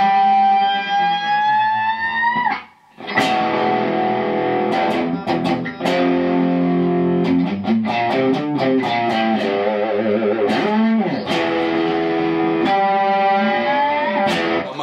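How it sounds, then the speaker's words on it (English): Electric guitar played through distortion, with the third string bent behind the nut so the pitches slide up and down. Loud, sustained wailing tones with brief pauses and a siren-like, echoing quality. "I'm going behind the nut on that 3rd string and bending that down, and one will come up and one will go down. So with distortion on."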